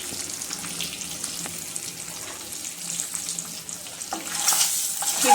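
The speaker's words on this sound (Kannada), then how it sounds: "ನಿಧಾನವಾಗಿ ನಾವು ಅದನ್ನು ಫ್ರೈ ಮಾಡ್ಕೊಳ್ಳೋಣ" Chopped ingredients for egg biryani, already mixed with masala, fry over a low flame, making a soft, continuous hiss close by that rises a little louder near the end, with no voices.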